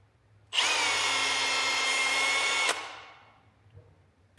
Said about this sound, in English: drill a long borehole into our electric outlet box